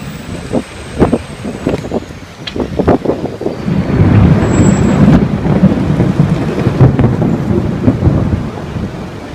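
Loud thunderstorm with rumbling thunder and heavy rain, several sharp cracks early on and then a sustained roar of storm noise and wind buffeting the microphone.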